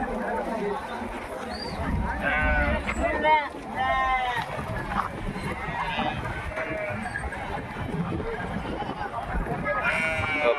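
Sheep at a busy livestock market in Gudur bleat repeatedly, several wavering cries rising over a crowded murmur, with people talking nearby throughout.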